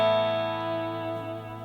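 A clean electric guitar tone on the middle pickup, played through a pedalboard, rings out as a single sustained chord that slowly decays, alone and fairly soft.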